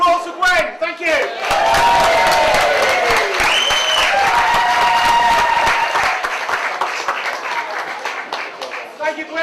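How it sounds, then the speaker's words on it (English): Wedding guests at a 2007 reception applaud and cheer for the bride, a loud close burst of clapping with whoops and shouted voices over it, easing slightly toward the end. "Round of applause for Gwen."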